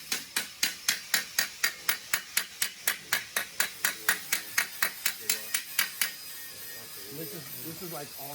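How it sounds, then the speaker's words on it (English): Body hammer ringing on a metal panel backed by a dolly, around twenty sharp, evenly spaced metallic strikes close by, then stopping as a person speaks over a low background hiss. "so you want to make sure you're hitting the metal to metal"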